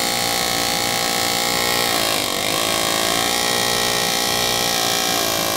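A power engraving tool buzzes in a steady, unbroken whine while cutting into the metal of a Uberti Colt revolver. The sound is close and loud, with no talking.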